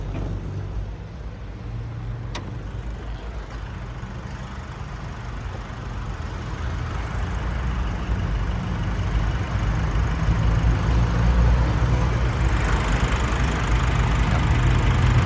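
A Nissan Navara 2.5 VN Turbo diesel engine from 2017 idles steadily with a low, throbbing rumble and a faint knocking texture. It grows gradually louder toward the end with no talk.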